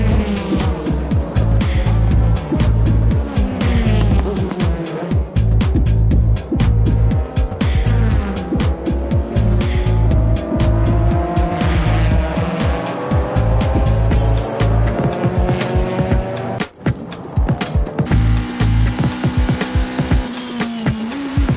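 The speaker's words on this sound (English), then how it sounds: "here comes the two Supras racing to take the lead at the first corner." Toyota Supra race cars in a JGTC race charging into the first corner, loud engines roaring with rising and falling revs and gear changes throughout, up close and steady.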